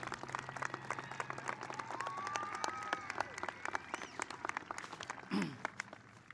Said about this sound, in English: Class of 2022, please give yourselves a round of applause because we're so proud of you.